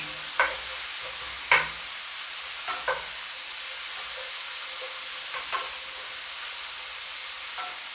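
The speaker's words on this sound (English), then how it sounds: "Nice gentle stir fry on those mushrooms." Mushrooms with parsley gently stir-fried in a pan, giving a soft, steady sizzle with a few sharp scrapes of the utensil spaced through the clip; no voices.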